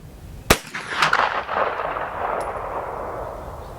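A Ruger PC Carbine fires one sharp, loud shot at a shooting range, followed by a few smaller cracks and a long fading echo that rolls away into the distance.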